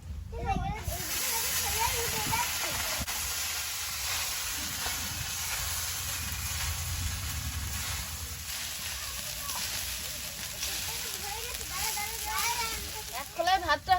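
Cooked rice tipped into a pan of fried cumin on a village stove gives a steady close sizzle and hiss, with someone talking over it throughout.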